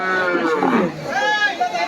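A cow lows at a busy cattle market for dairy cows in Bangladesh, a drawn-out moo rising and falling over about a second, close by, with people talking around it.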